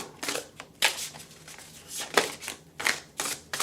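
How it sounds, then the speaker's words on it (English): Repeated crisp bursts of shuffling tarot cards, riffled in quick uneven handfuls up close with brief pauses between. "Let's go ahead and shuffle first."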